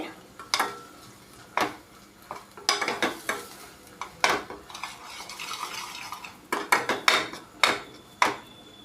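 Paneer curry ingredients frying in a pan, with scattered clanks and scrapes of a spoon stirring over a soft sizzle, close and moderately quiet, strokes coming in uneven bursts.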